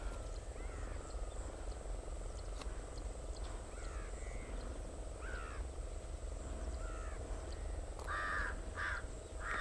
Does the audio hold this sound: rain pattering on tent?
no